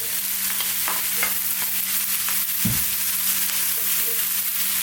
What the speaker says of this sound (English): Let's now go in with those potatoes. And let's get some of our mixed beans in there.